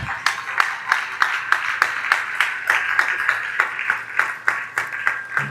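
A church audience claps for the company CEO at an anniversary gathering: a steady, rhythmic run of fairly close, moderately loud hand claps over a sustained tone.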